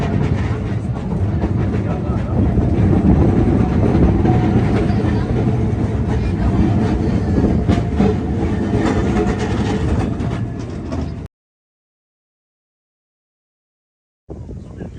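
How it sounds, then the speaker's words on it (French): A small tourist train running from the town centre to the port on Majorca rumbles steadily and loudly up close, with a continuous rolling drone that cuts out abruptly for a few seconds and then returns. "Et le petit train donc, qui fait le trajet du centre-ville jusqu'au port."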